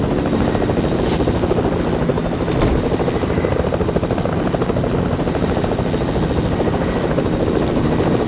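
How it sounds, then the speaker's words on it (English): A helicopter flies in a video game, its rotor giving a loud, steady, close thumping drone that holds throughout with no talk over it. "There's another chopper."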